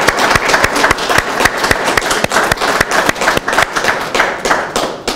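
An audience claps together in a hall, loud, close and steady, with sharp overlapping hand claps falling in a fairly regular rhythm throughout.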